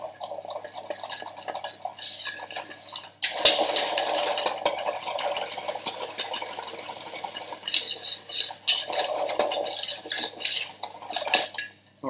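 Genoise sponge mixture being stirred in a bowl with a utensil, steady scraping and clinking strokes against the sides in bursts, close and fairly loud, with a brief quieter pause near the start.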